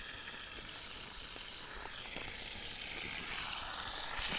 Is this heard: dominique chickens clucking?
no